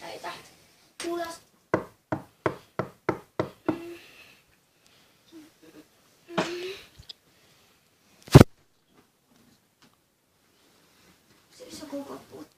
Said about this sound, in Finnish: Siis joku koputti.